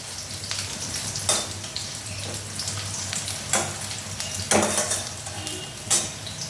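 Eggplant fries in a pan with a continuous close sizzle, punctuated every second or so by clinks and scrapes of a metal spatula against the pan.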